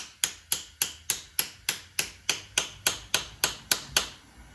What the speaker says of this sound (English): we'll just use a socket with a bit of tapping.